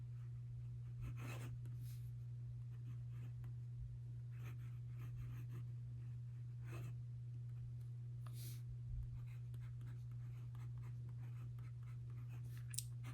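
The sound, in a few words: Monteverde Innova fountain pen writing cursive on paper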